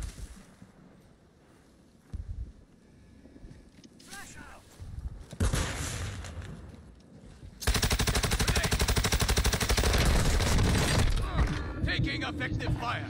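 Intense gunfire in the battle royale game Call of Duty Warzone, with scattered shots building into a long, loud, continuous barrage of rapid automatic fire mixed with mechanical clatter and voices talking underneath.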